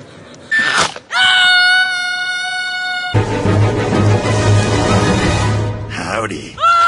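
A cartoon dinosaur standing on a rock lets out a loud, sustained scream. Tonal wails come close and strong, with a brief gasping intake, a rough, noisy stretch, and a rising yell at the end.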